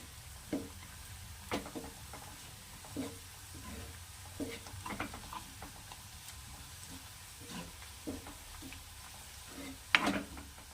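Turmeric being stirred into a chickpea and vegetable mix in a pan: soft, intermittent scraping strokes with light sizzle underneath, fairly quiet and unhurried, no talking.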